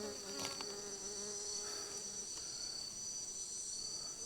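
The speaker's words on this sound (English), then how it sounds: "Forest bees." Tiny forest bees buzz steadily in the wild among Alocasia plants, a continuous high insect drone filling the air with a few louder passes close by, with no talk over it.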